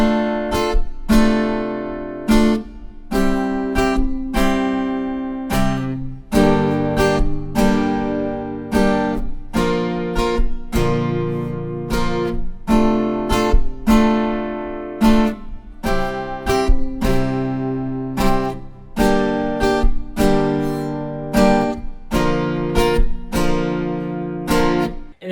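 Guitar strumming the chorus chords of a pop song in a busy, rhythmic pattern of quick strums and accents that holds steady for a long stretch, close and fairly loud with no voices.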